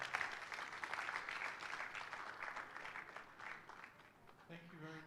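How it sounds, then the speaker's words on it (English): Audience applause after a call for a round of applause at a speaking event, a steady broadband clatter of many hands that slowly thins out, with a brief voice starting at the very end. "Please, a round of applause, please."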